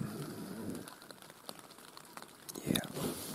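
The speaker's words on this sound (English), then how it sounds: "Yep, it's raining." Rain falls outdoors at first light during a wild pig hunt at Lake Sonoma, a steady close patter with scattered sharper drops and a brief louder splash near the end.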